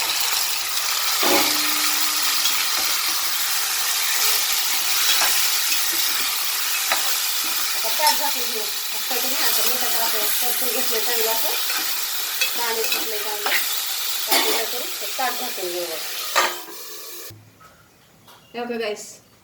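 Mutton pieces sizzle and crackle in a hot pan on a home gas stove, a steady broadband fry with frequent stirring clicks and scrapes, close and loud, before it cuts off near the end.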